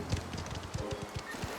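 Horse hooves clip-clop in a steady walking rhythm, close and clear, in an early twentieth-century Sicilian setting of the video game Mafia: The Old Country, with no talk over the steps.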